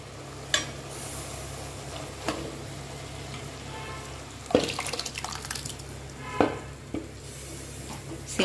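Cooked lentils stirred into simmering banana stem kootu in a pan, a soft continuous bubbling and sizzle broken by a few scraping and clanking knocks of the spoon.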